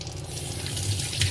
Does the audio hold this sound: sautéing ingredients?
no